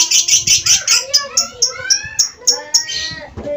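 Bird calling in a field setting, a loud near series of rapid repeated chirps and trills in a quick rhythmic sequence, with faint voices in the background.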